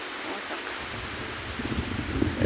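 Strong wind at a zoo entrance in Guadalajara, Spain, a steady broadband roar buffeting the microphone, growing louder and gustier toward the end, with no speech.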